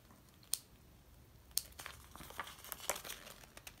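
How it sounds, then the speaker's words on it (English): Stickers peeled off a paper sticker sheet, making close, crinkly tearing and crackling sounds with a few sharp snaps, growing busier toward the end. "This is me just struggling to get them off the page."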